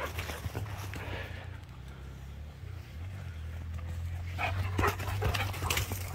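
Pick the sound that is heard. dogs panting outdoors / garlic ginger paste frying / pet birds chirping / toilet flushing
dogs panting outdoors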